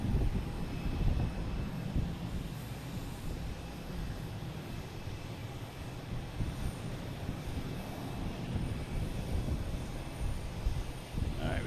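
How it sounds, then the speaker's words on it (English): Distant engine roar of a Falcon 2000 LXS business jet at Boston Logan airport, a steady faint whoosh mixed with wind noise on the microphone and no talk. "The Falcon 2000 LXS going somewhere."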